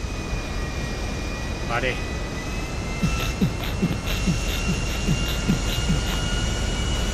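A steady airplane engine drone in the game GTA Online, a loud continuous roar with a few short clicks, while a player speaks briefly over it.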